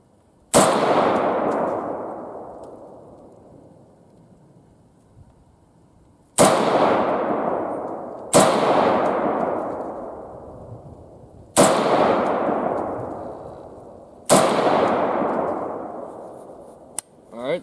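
Venezuelan-contract FN-49 rifle firing five rounds at a 100-yard range: five sharp, loud cracks, each with a fading ringing tail, irregularly spaced a few seconds apart.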